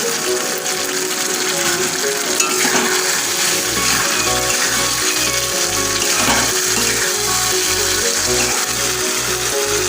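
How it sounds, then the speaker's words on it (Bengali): Turmeric, cumin and coriander powder sautéing in a pan, with a steady sizzle and frying hiss running throughout, joined midway by a rhythmic mechanical clicking pulse, loud and close. "হলুদ গুঁড়ো দেবো হাফ চামচ ভর্তি জিরে গুঁড়ো আর হাফ চামচ ধনে গুঁড়ো দিয়ে আমি কষাতে থাকবো।"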